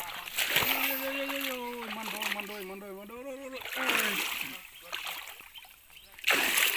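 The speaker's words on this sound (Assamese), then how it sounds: "মাইথং নদীখন পাৰ হৈছোঁ" Water splashing and sloshing as people wade across the Maithong river, with voices and shouting over the steady wash of water throughout.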